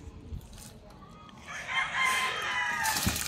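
Chickens and roosters kept with young stock birds on a backyard farm, a rooster crowing loudly in the second half over scattered clucks and other fowl calls, fairly close and alone without talk.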